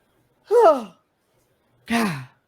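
A man gives two drawn-out, breathy yawns during a podcast, each a voiced exhale with a falling pitch about a second apart, close and fairly loud, with no words.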